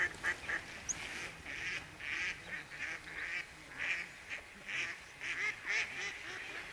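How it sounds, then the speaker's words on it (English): Several ducks quack and honk beside the middle River Severn, their calls coming in repeated bursts at moderate distance over a steady outdoor background. "the ducks are excited"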